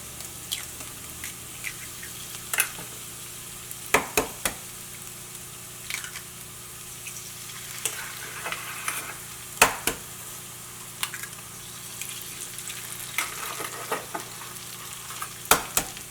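Egg stir-fries in oil with spinach for a Kerala spinach egg thoran. A steady soft sizzle runs throughout, punctuated by scattered scraping taps of a spatula against the pan.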